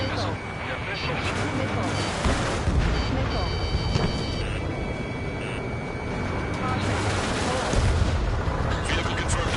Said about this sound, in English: Strider 3 launching missile.